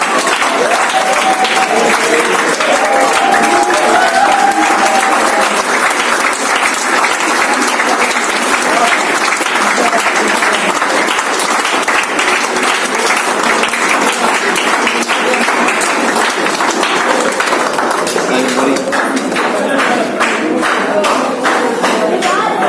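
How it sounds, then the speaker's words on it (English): Loud, sustained audience applause welcomes a chef instructor at a hotel-management masterclass, a dense wash of clapping that carries on for over twenty seconds with a brief murmur of voices early on. "Start clapping."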